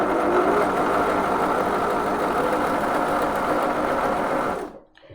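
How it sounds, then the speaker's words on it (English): A Janome 525 S sewing machine runs a small straight stitch, a loud close continuous whirring hum with a fast needle rhythm that holds steady and then stops abruptly near the end. "So let's just do a straight stitch to start with."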